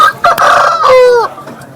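A black rooster crows once at a Sunday rooster market in Vijayawada, a loud, close call that rises and then bends downward, ending after about a second.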